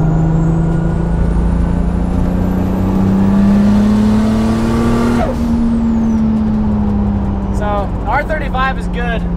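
A Toyota Supra engine drones steadily from inside the cabin, pitch rising slowly as it accelerates, with a whoosh and a rising rev toward the end.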